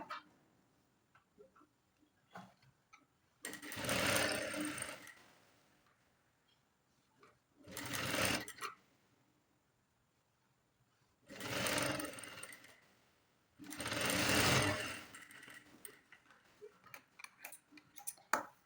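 Sewing machine stitching a quarter-inch seam, running in four separate bursts of rapid mechanical whirring with quiet pauses between, close and fairly loud.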